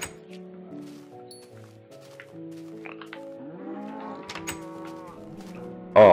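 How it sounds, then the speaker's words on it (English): Several Minecraft cows low in short, overlapping moos at varying pitches, fairly close and clear against a quiet background, ending with a loud abrupt burst. "Oh, look at those cows."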